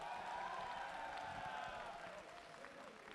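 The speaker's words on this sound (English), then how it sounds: "So please, give a round of applause for Rick, y'all, please." Audience applause at a fighting game tournament's top 8 for MBAACC, a sustained wash of clapping and crowd noise from a large hall, fairly faint and even, tapering slightly toward the end.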